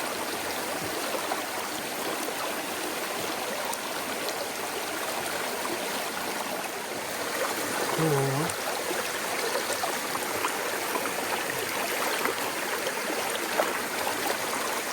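Clear, cold mountain stream in the Carpathians with a shallow visible bed, rushing in a steady, full broadband wash of flowing water, close and continuous without pause or talking.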